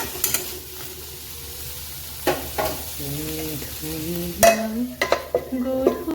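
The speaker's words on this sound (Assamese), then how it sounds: "তাৰপিছত জলকীয়া নহৰু দিছোঁ" Green chillies and garlic fry alongside a fish head in a pan, with a continuous sizzle, scattered sharp clinks and stirring scrapes, and a brief low hum partway through.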